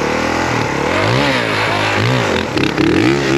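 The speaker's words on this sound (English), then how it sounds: "Drag race, Will's going to count it in." A Honda CRF450 dirt bike and a 72v Talaria Sting electric motorcycle launch side by side in a drag race, with a loud, close engine revving and rising in pitch through repeated surges and gear changes.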